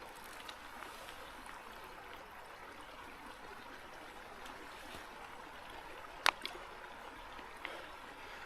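Cold Colorado mountain creek water runs through a water filter at a Lost Lakes campsite, making a faint, steady trickle with one sharp click partway through. Light outdoor ambience sits beneath it.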